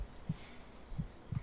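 Heartbeat signalling a nearby demon in the DayZ video game, three faint, low, muffled thumps spread across the moment, in an uneven rhythm over quiet background hiss.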